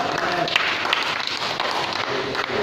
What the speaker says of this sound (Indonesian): tepuk tangan dulu sama dia